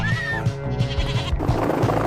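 A goat stuck on a cliff ledge bleats in a loud, wavering call over a steady rhythmic backing beat, with the cry carrying through most of the short stretch.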